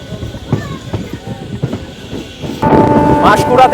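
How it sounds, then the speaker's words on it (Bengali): A local train pulls out of Panskura Junction bound for Digha, with low rumbling and rhythmic clattering that grows louder and denser partway through, plus a tonal whine as it gathers speed, no voices. "পাঁশকুড়া জংশন থেকে আমাদের ট্রেন ছেড়ে"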